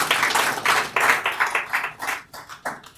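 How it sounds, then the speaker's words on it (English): At a showroom unveiling and foundation laying, a modest group claps in distinct, rhythmic bursts that thin out and taper off toward the end, fairly close and clear. "I think we should also give them a round of applause."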